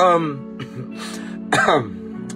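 A short, light cough or throat clearing, close by, between bits of talking.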